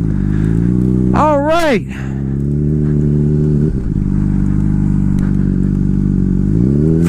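A Honda CBR600RR sport motorcycle idles loudly at close range with a steady, buzzy engine drone and one quick rev that rises and falls in pitch early on; someone speaks briefly.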